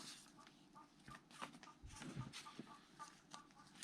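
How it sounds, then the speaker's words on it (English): A pet hen clucks in the background of an indoor craft session, a series of faint, irregular clucks and squawks with soft rustling and handling noises nearby. "Can you hear my chicken in the background?"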